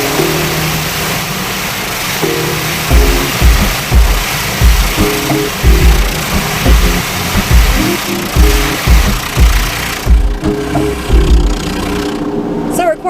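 Car wash machinery hums and churns steadily, with a rhythmic mechanical pulsing over a low rumble and a person talking over the noise.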